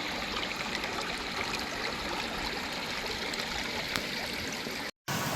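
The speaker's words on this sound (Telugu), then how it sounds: "గలగలలు వినండి" Water babbles steadily along a garden stream in the Singapore Chinese Garden, a constant gentle rush broken by a very short dropout near the end.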